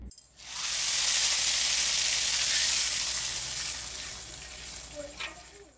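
A loud burst of sizzling as Kashmiri red chilli powder hits hot oil for a tempering on mutton haleem, hissing strongly at first then gradually settling down, with a few faint clinks near the end.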